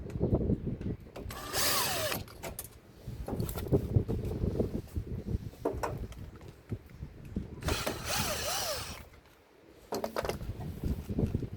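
Power tool loosening the pump screws inside a Samsung washing machine, short bursts of whirring drill spinning up and down in several separate runs, fairly quiet and close, with clanks between.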